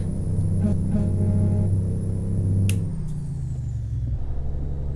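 A heavy truck engine in a driving video game rumbles low and steady, with a brief high hiss partway through before the drone eases off slightly.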